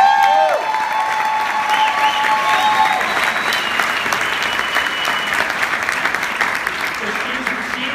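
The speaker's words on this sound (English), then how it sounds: "Can you guys please give her a big round of applause?" A crowd at a Kangen Water training event at Enagic applauds a speaker's mother, loud continuous clapping with some voices and cheers mixed in, a brief tone or squeal early on.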